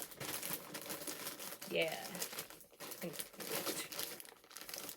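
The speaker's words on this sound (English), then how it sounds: "Sorry for the crinkling" Packaging crinkles and rustles near the mic while fiber for spinning is handled, Rambouillet wool, with someone speaking briefly over the crackle.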